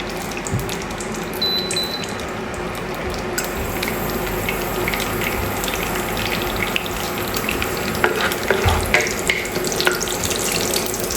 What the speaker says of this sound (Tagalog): sa mantika na yan, dyan tayo magigisa ng aromatics natin